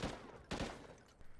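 Gunfire in Call of Duty: Ghosts from a gun glitched upside down, two or three quick, sharp shots close by in a brief burst, with no talk.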